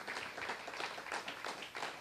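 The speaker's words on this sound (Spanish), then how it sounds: "hay que darle un aplauso a Yahweh" Applause from a church congregation praising Yahweh, a dense patter of clapping with rhythmic swells through the short stretch, moderately loud and without clear voices.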